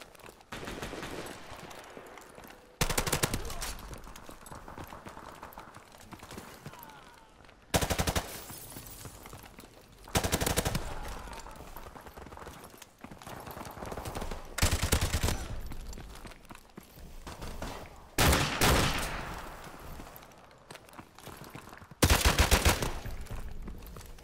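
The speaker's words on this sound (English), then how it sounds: "Where are my shots going?" Gunfire in a video game: several loud bursts of shots spaced a few seconds apart over quieter background game sound.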